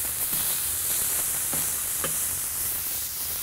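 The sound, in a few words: beef patties and onions sizzling on griddle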